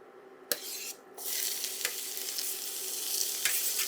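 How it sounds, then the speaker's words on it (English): Diced onion dropped into added oil in a skillet for a cabbage and sausage dish, setting off a steady, loud sizzle with a few sharp clinks of a utensil against the pan, and no talking. "I'm going to add some additional oil to the pan, and we're going to add our diced onion. And then we're just going to brown these up"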